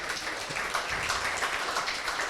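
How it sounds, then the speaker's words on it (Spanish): Audience applause at a comic book launch, a moderately loud and dense spread of clapping that carries evenly from start to finish, with no talking on top. "Pido un aplauso para él,"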